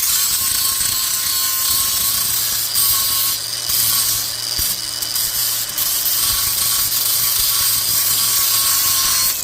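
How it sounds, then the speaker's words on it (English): A handheld grinder runs while a CUT50 or CUT55 plasma cutter is being set up, giving a sustained close whine with slight wavering and no talk. "We're going to grab that grinder."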